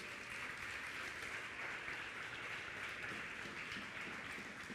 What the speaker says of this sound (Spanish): Denle un aplauso al Señor, vamos.